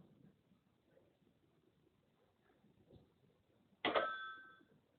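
In a talking-character phone game, a telephone is hung up with one sharp, bright clack and a short ringing tail. Faint low murmuring comes before it.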